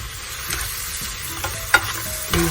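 About 200 grams of chicken is stirred into yogurt in a bowl for a salad: soft, wet squelching and a few sharp clicks of a spoon against the side, close and without speech.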